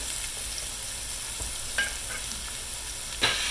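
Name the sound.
vegetables sauteing in a pan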